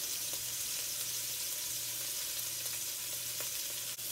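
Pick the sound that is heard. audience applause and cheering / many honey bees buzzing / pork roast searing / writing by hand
pork roast searing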